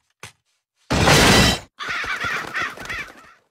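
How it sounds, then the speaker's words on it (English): Cartoon crows caw loudly inside a house, with a brief harsh squawk, a burst of noisy crashing clatter, then a run of raspy repeated caws, all close with no talk. "those crows keep getting in"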